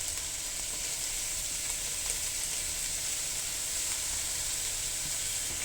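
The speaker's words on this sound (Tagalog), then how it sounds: "mag-saute na ng garlic and onion" Garlic and onion sauté in a hot pan, giving a steady, continuous sizzle and hiss with faint stirring scrapes underneath, close and fairly loud throughout.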